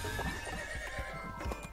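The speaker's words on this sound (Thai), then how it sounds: "เสียงตัวนิดเดียวแต่เสียงเหมือนม้าตัวใหญ่เลย" A loud horse neigh from a small pet horse in the racing game Speed Drifters, a whinny with clip-clopping hooves and busy game music running under it.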